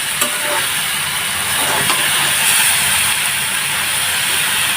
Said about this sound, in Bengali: আমি এভাবেই ভাজতে থাকবো,